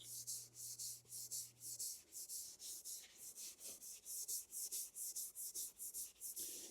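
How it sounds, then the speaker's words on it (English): A Scotch-Brite pad scrubbing aluminum parts from a 1972 Mercedes 280SE 4.5 fuel injection system: quick, even back-and-forth rasping strokes, roughly twenty in a steady rhythm, close and quiet with nothing else heard. "with a Scotch-Brite pad, I'll come in here and start scrubbing it"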